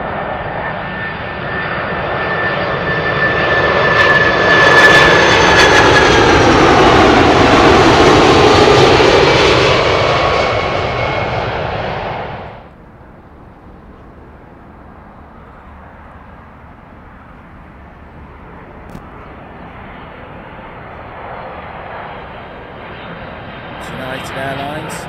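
A British Airways Boeing 747 passes low over houses near Heathrow, its engines roaring loud and close for about twelve seconds before cutting off abruptly to a quieter background rumble.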